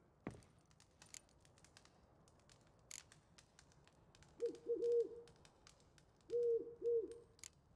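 An owl in The Witcher 3 gives two short pairs of soft cooing hoots, low and fairly close, over a quiet game ambience with scattered clicks and ticks.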